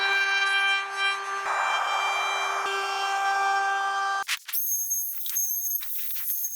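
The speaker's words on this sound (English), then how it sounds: "I'm gonna do an 1/8-inch roundover on the outside edges of the stool." A router's steady high-pitched whine runs for several seconds while rounding over the edges of a wooden stool, then cuts off, followed by lighter scraping and rubbing sounds.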